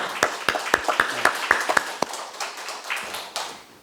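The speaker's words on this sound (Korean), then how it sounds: "박수 한번 쳐주세요." A church congregation claps in a short burst of sharp, fairly quick hand claps, about a dozen distinct hits close by, thinning out into a few scattered claps before fading.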